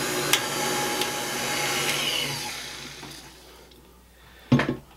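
A stand mixer whirs steadily while mixing brioche dough with flour, a continuous motor drone that winds down and ends with a short knock near the close.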